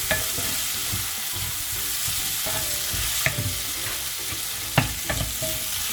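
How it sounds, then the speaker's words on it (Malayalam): Chopped tomatoes fry in a pan for Kerala-style fish molly, giving a steady sizzle broken by a few sharp scrapes and clinks of a spoon stirring, close and with no talking. "ഇവിടെ തക്കാളിക്ക ഇങ്ങനെ ഇത് കിടന്ന് വേവുന്നുണ്ട്"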